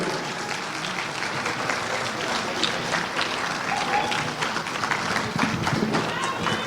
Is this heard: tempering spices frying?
no